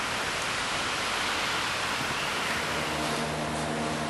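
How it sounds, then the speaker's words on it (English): A squirrel cage blower motor running for a blacksmith's coal forge fire gives a loud, steady, broadband rushing whoosh that holds constant from start to finish, with no talking. "I've got a blower motor here, squirrel cage blower, ready to start heating up."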